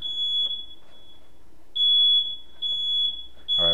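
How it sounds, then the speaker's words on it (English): A kitchen smoke alarm going off with a shrill, steady high-pitched tone in four long bursts separated by brief pauses, loud and close, with no talking. "Once again, we got the fire alarm going off."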